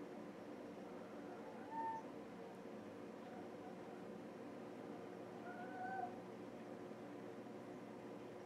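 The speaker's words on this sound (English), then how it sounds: "that was my cat." A cat gives two short meows a few seconds apart, faint and somewhat distant against a low room hum, with no talking.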